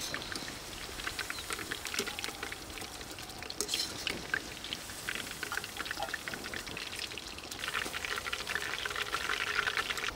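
Chicken pieces frying in hot oil for a restaurant-style Chicken Majestic starter, giving a steady fine crackling sizzle with scattered pops, moderately quiet and continuous, with no talking.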